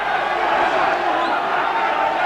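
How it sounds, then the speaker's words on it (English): Steady roar of a boxing crowd in Glasgow, dense cheering and shouting filling the arena without pause at a constant loud level. "And the crowd here in Glasgow have thoroughly enjoyed this one."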